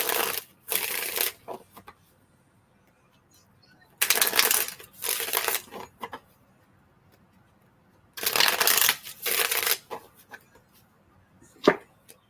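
Tarot cards shuffled by hand in three bursts of riffling, close and crisp, separated by short pauses, with a single sharp tap near the end.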